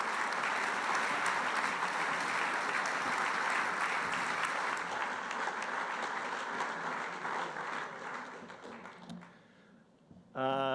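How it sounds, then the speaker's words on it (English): Sustained applause from the audience at a charity lunch in a club hall on New Zealand's North Shore, dense and steady for about nine seconds before thinning out, with a brief voice at the very end. "Please, a warm round of applause."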